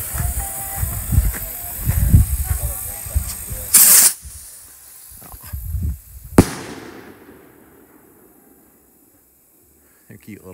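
A small Ring of Power 1.5 inch rocket firework is lit, giving a sharp fizzing hiss and a loud burst before fading into a quiet outdoor scene; voices are heard around it at a pyro club.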